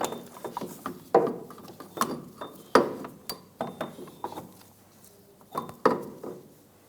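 Metal parts of a 2007-2017 Ford Expedition front driveshaft clink and knock as the rear flange is fitted into place, a close series of short irregular taps and clunks with brief pauses between.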